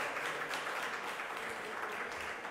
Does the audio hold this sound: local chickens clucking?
no